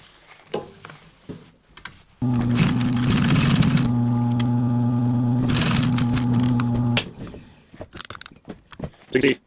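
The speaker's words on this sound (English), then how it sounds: "we're going to go ahead and sew this down" A sewing machine stitches down a cushion boxing seam for a mesh back cushion, running as a loud, steady motor whir with a brief pause partway through. Quieter handling and rustling come before and after the run.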